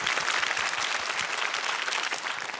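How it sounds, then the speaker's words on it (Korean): A studio audience claps steadily, a dense patter of applause heard from within the room, with no voices over it. "박수 한번 보내주세요"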